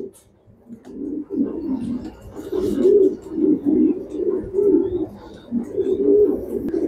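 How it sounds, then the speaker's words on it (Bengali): Racing pigeons kept as top breeding stock coo continuously at close range, a dense overlapping chorus of low rolling calls with a steady pulsing rhythm throughout. "সবচেয়ে টপ কবুতর।"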